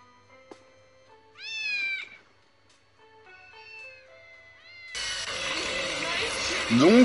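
Several short electronic-sounding meows from a cat in the video game Postal 2 come in separate bursts over quiet background, then a louder, noisier stretch ends with one more meow.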